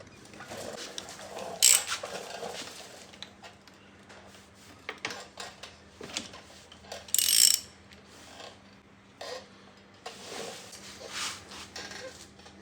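A seized bolt on a Kawasaki KX65 water pump, with a nut welded onto it, is worked loose with a ratchet, giving repeated metallic clicks and ratcheting bursts, some sharp and loud, over a low steady hum.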